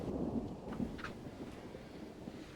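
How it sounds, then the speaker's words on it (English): Thunderstorm with rain in Texas, a low continuous rumble and wash of rainfall with wind, fairly quiet and distant, with no talking. "Man, it likes to rain down here in Texas,"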